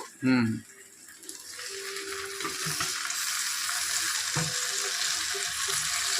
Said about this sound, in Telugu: అయినా కొంచెం మగ్గటాకి నూనె పోస్తున్నాను